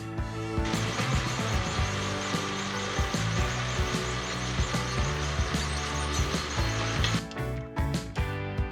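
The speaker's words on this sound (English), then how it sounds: "You can do it on a grinder just to touch the head off" A bench grinder running loud and close as the head of a small screw for a Harley transmission seal puller tool is ground down, a continuous steady whine with rhythmic rasping contact, the workpiece pulling away near the end.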